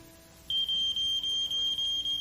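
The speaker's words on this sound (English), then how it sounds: "What's that? The smoke alarm." A household smoke alarm beeps loudly in a steady rapid series of high-pitched pulses, close and alone after a faint quiet start.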